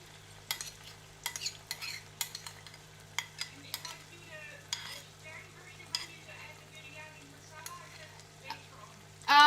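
Shrimp biryani masala and green chili going into a frying pan, heard as a steady sizzle with repeated stirring scrapes and clicks of utensils on the pan, close and moderately loud, with no talking.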